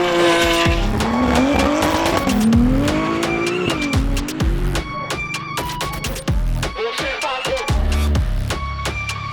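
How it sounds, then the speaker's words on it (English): McMurtry Spéirling car launching on an eighth-mile drag strip, a loud, close, continuous high-pitched electric whine sweeping up and down as it accelerates, with sharp clicks and tire noise throughout. "we actually start with like an 1/8 mile drag"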